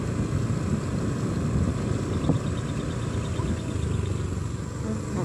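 A motorcycle engine idles with a steady, continuous low rumble that stays at an even level throughout, some distance from the listener, with no voices.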